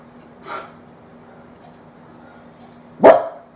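Two separate dog barks a few seconds apart, the first softer and the second louder and closer, with quiet in between.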